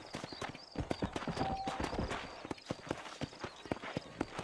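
Horse hooves trot with a steady clip-clop rhythm in the Red Dead Redemption video game, the beats close and clear over a soft outdoor ambience.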